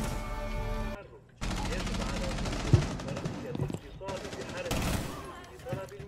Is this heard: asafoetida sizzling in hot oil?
no